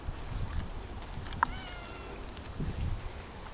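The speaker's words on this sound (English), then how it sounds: "This is one of the sweetest cats I've ever met." A stray cat on the streets of Kyiv, Ukraine, gives one short, clear meow at close range over a steady outdoor background of wind and low rumble.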